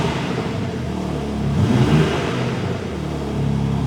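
A cold BMW M3 Touring engine revs up and holds at a steady raised pitch around 2,500 to 3,000 RPM, a loud close rumble swelling in the middle before easing back.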